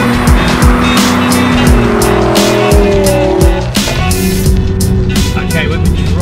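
A Lamborghini Huracan drives hard with a loud engine roar and tire squeal, shifting pitch as it accelerates, and a person talks over the noise.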